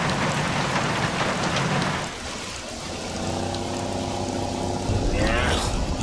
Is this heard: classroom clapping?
no